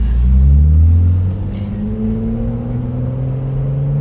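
A BMW E36 M3 engine pulls hard while driving, a loud close interior drone with a rising tone, strongest in the first second and then settling into a steady, slowly climbing rumble.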